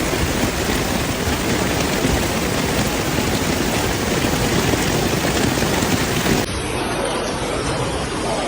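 Heavy, relentless rain falling during record floods in Brazil, a dense, loud, continuous hiss of downpour on surfaces with no break and no voices.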